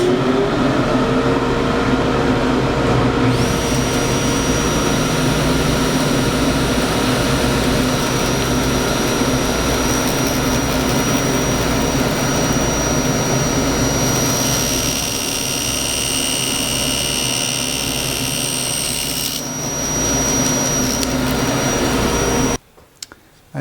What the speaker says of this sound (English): I've finished cutting all the box parts to length on the table saw